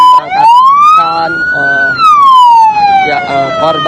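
A loud ambulance siren wails in slow rising and falling sweeps throughout, as the ambulance and medical team set off with victims of a deadly crash on the Jakarta–Cikampek toll road.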